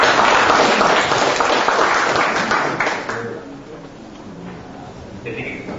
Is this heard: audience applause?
yes